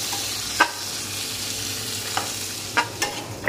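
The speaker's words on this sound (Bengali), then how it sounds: "লং, দারচিনি, হালকা 2 মিনিটের মতো ভেজে তারপর আমি দিয়ে দিচ্ছি কেটে রাখা পেঁয়াজ" Chopped onions fry in oil with cloves and cinnamon, a steady sizzle running throughout while a spoon scrapes and stirs the pan in several sharp, separate strokes, close and alone.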